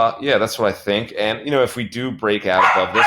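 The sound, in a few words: dog barking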